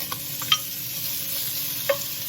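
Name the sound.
thick cut bacon frying in a pot on medium-high heat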